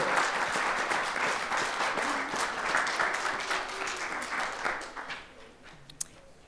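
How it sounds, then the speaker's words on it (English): Audience applause for art contest finalists at a Martin Luther King Jr. program, a dense, steady clapping that fills the room for several seconds before thinning out near the end, with a few scattered claps trailing off. "can we give it another round of applause for all of the finalists"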